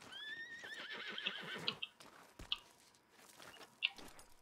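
A horse in the video game Red Dead Online gives a clear rising whinny with a wavering tail, followed by scattered soft hoof and movement sounds at moderate distance.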